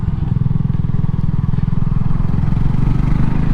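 A Honda CB250RS motorcycle engine runs steadily and loudly up close while riding, a continuous throbbing drone with no clear change in pace.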